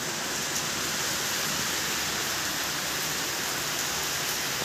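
Heavy rain falls steadily in the Sundarbans forest, a dense, continuous hiss of drops on surfaces at a constant loud level with no voices.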